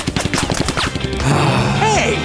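A quick rattling burst of machine-gun-like pops, then a short whistling, swooping tone as the firing stops.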